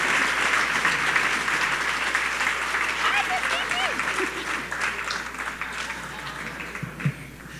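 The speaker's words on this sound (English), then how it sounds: "Please give him a round of applause." A crowd at a radio station's anniversary awards celebration claps in sustained, steady applause that fades slightly toward the end, with faint speech mixed in beneath it.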